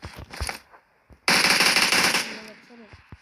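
Rapid machine-gun fire from a video game bursts out loud and continuous for about a second, then tails off into quieter game sounds, with faint background noise before it.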